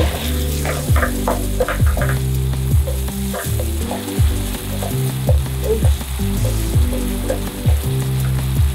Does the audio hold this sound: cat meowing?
no